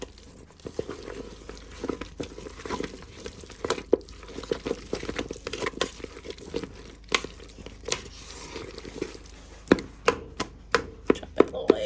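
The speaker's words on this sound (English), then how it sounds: "Chop that little egg up a little more." A knife chops a boiled egg on a cutting board in an off-grid kitchen, giving irregular sharp taps that bunch into quicker bursts near the end, close and alone.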